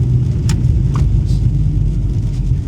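A Rover Classic Mini drives along with a loud, steady low engine rumble and road drone, punctuated by a couple of brief higher-pitched clicks.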